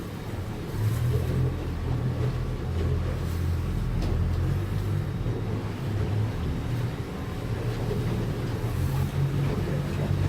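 A 28-foot 2019 Duckworth boat's motor throttled down to trolling speed on the water, giving a steady low rumble with wind and water noise, continuous and fairly close throughout.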